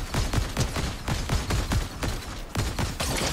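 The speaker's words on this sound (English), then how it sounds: "I got sniped" Rapid volleys of gunfire in an online battle royale video game with llamas and loot, a dense run of sharp cracks and thumps repeating every fraction of a second, loud and close with no talking.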